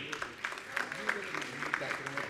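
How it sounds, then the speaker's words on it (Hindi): Sparse, fairly quiet audience applause at a religious question-and-answer gathering in Vaibhav Nagar, Indore, with scattered claps in an uneven patter. "आपकी तालियां कम बज रही हैं"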